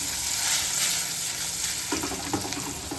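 Paneer cubes frying in hot oil in a dhaba-style paneer butter masala, giving a constant close sizzle with bright crackle and a few sharper spatters near the end.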